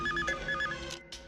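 A telephone rings in a movie scene, a few short repeated electronic ring bursts, moderately loud over a low background score, cutting off abruptly near the end.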